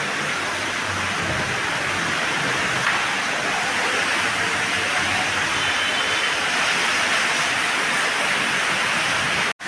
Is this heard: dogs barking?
no